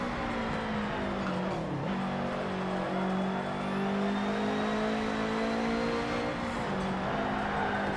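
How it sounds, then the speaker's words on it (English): Subaru flat-four engine in the racing game Forza Motorsport 7, a continuous loud engine drone with pitch dipping and climbing through gear changes and throttle shifts, with no voices over it. "Just gotta love the way the flat fours and these Subarus sound."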